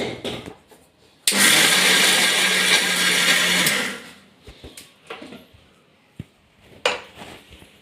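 A mixer grinder grinds roasted peanuts into powder in one loud, steady whirring burst lasting a few seconds. It then stops abruptly, leaving faint clatters and handling knocks.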